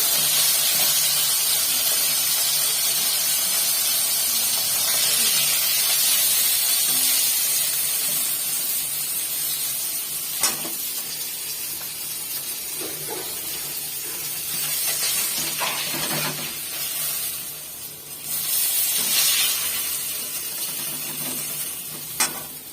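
Bata fish frying in oil in a home kitchen pan for a fish curry, giving a steady broadband sizzle and hiss throughout with a few brief louder spatters, heard close and alone without talk.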